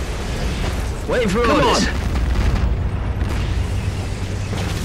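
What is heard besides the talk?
explosions and gunfire in Codename: Panzers Phase Two video game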